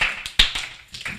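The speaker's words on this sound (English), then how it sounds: "Clap for your wonderful Nwunye Mazi." Children at an Igbo summer camp clap for their teacher, a handful of separate sharp claps in an uneven rhythm, close and fairly loud.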